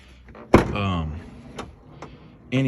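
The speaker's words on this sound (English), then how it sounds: "So that's me forcing the door closed" A 1999 Chevrolet Silverado door being forced shut, with one sharp thud near the start and a few smaller knocks, while someone talks over it.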